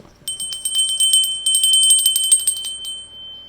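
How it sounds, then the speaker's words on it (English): A bright, high bell rings in rapid repeated strikes for about three seconds, close and clear, then fades out with no voices. "Ring the bell."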